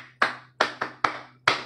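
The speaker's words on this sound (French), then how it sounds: "Applaudissez." Children applauding at a school show come through as five sharp, close hand claps in an uneven rhythm, with no talk.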